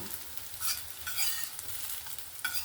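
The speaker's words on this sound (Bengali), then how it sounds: "আবারও এরকম উল্টে পাল্টে সুন্দর করে মুচমুচে করে একদম ভেজে নেব" Small shrimp fritters fry in a pan with a soft continuous sizzle, and brief brighter bursts of crackling come through as they are turned over.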